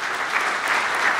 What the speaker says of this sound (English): would you just give a clap?